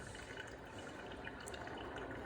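Very hot water poured gently onto a Kalita Wave paper filter in an Origami dripper, a soft, steady trickling and splashing, faint and close, with no talking.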